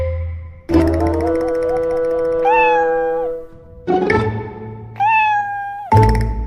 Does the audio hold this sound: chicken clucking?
no